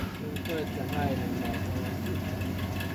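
Vintage Eskimo 12-inch box fan running on medium, giving a steady, even motor hum and airflow rumble throughout, with a faint voice briefly heard over it.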